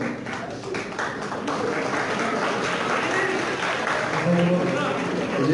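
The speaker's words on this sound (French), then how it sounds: "je ne sais pas pourquoi vous applaudissez" Indoor audience applauding during a religious lecture, a steady patter of many hands clapping at moderate distance, sustained for several seconds with a little murmuring underneath.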